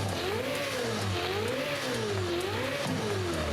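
Racing V12 engine in the Forza Horizon racing game, revving steadily up and down in smooth repeating swells, loud and close with no talk over it.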